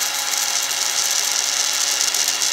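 A tool bit grinds across metal during a wheel swap: a steady, close, hissing whir with a faint mechanical rattle that holds unchanged throughout.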